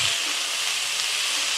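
Chopped kulekhara greens frying with potato and papaya in a pan, giving a steady, close, loud broadband sizzle and hiss with no pauses and no talking.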